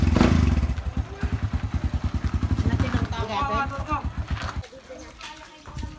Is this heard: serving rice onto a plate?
no